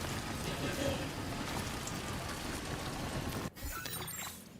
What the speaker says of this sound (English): Ah, it's raining already.